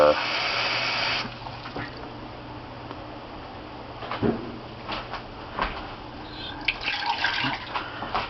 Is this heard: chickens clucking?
no